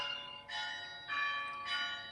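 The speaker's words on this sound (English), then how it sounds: "maybe you hear a bell ringing" Church bells ring steadily in the distance, overlapping tolls with long sustained ringing tones swelling in several waves at moderate loudness.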